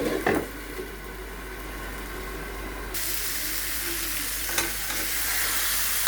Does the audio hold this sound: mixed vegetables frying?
yes